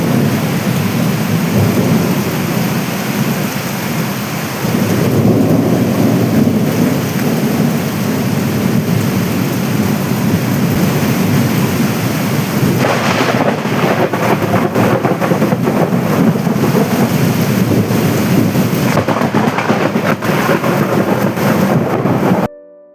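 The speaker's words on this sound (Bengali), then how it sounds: "বিকেলবেলা কি পরিমাণে বৃষ্টি হয়েছে আর বজ্রপাত হয়েছে সেটা তোমরা না শোনো" A heavy afternoon thunderstorm, the first fierce storm of the year, with loud steady rain pouring down and thunder rumbling through it for the whole stretch. No one speaks.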